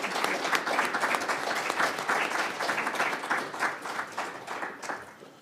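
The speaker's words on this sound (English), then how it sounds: "Can we just give them a round of applause?" Audience at a university auditorium talk on spices and sustainability applauds steadily after a panel discussion, dense clapping holding for several seconds and tapering slightly toward the end.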